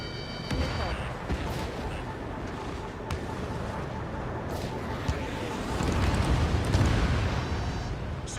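Explosion of a destroyed SAM site in the flight combat video game Ace Combat 7: Skies Unknown, a dense rumbling blast under continuous game noise and gunfire-like crackle that swells louder near the end.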